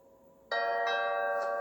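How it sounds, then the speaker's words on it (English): A single electronic doorbell chime rings out after a short quiet moment, clear and sustained with a bright tone. "That's the doorbell."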